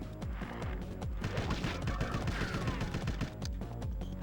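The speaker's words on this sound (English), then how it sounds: "I think we can actually switch to the submachine gun." Rapid, sustained submachine gun fire in the video game Destiny 2, dense overlapping shots crackling continuously at close range with no pauses and no talk.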